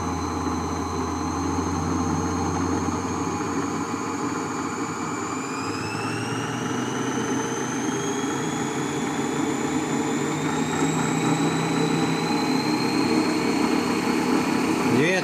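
An electric yarn winder's motor runs at high speed with a steady, loud whine. Its pitch climbs in stages as the motor speeds up, with a voice speaking beneath it.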